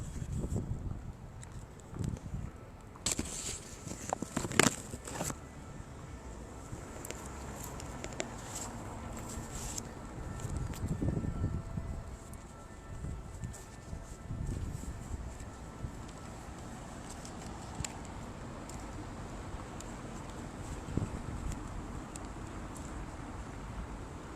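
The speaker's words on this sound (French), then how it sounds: "il y a beaucoup de vent en fait. C'est le vent." Strong wind buffeting an outdoor microphone, a continuous rough roar with gusty surges and sharp bumps of noise throughout.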